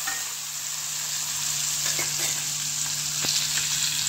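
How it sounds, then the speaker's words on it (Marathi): Knife-scored boiled eggs fry in hot oil with masala, giving a continuous loud sizzle with a few faint clicks and one sharp tap near the end. "आणि आपण अंड्यांना अशी सुरीने काप लावून घेतलेला ते टाकते।"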